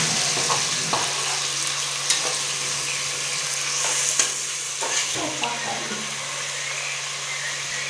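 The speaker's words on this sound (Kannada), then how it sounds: "ಎಣ್ಣೆ ಹಾಕ್ಬಿಟ್ಟು ಹಸಿಮೆಣಸಿನ್ಕಾಯಿ ಹಾಕ್ತೀನಿ, ಚೆನ್ನಾಗಿ ಫ್ರೈ ಮಾಡ್ತಾವನಿ." Green chillies and tomato fry in hot oil for a tempering, giving a steady close sizzle with occasional stirring clinks and scrapes throughout.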